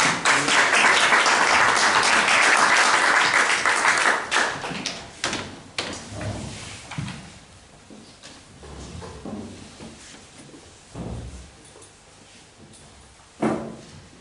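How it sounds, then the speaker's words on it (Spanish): A lecture-hall audience at a talk breaks into dense applause that fades after about four seconds, leaving scattered claps and a few thumps and knocks. "Un aplauso para ella."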